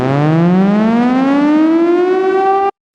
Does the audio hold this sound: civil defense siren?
yes